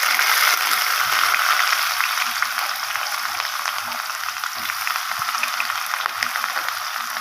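Two medium-sized chopped onions sizzle in a pan of hot oil for a ridge gourd stir-fry, a steady, close hiss with faint crackles throughout.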